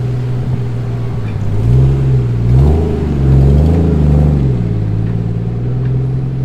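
A car engine rumbling and revving as it accelerates on a drive over Kirkstone Pass, steady cabin drone with rising and falling engine pitch, close and continuous with no talk.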